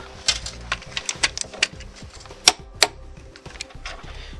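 A 24mm socket on a ratchet tightening the transmission mount nut on a 2012-2020 Ford Focus ST, a series of close, crisp ratchet clicks in an uneven rhythm, with two louder clacks near the end.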